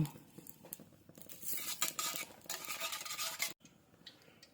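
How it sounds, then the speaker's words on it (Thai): Pork fat being stirred in a hot pan for Thai-style char siu, with scraping and clinking of a utensil against the pan, bursts of brisk stirring, and a faint sizzle, no talking. "กระทะเริ่มร้อนแล้วเราก็ลวนตัวนี้ก่อนค่ะ"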